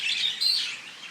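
Australian budgies chirp close by in quick, high, overlapping tweets and warbles, fairly loud and busy, with no voices.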